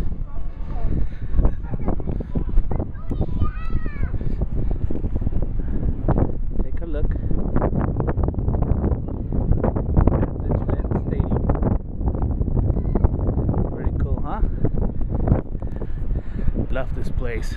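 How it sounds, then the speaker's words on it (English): Heavy wind buffets the microphone in continuous loud gusts outdoors at Gillette Stadium, with voices talking intermittently underneath. "It's windy though."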